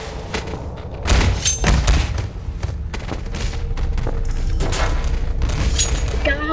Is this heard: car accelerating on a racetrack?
no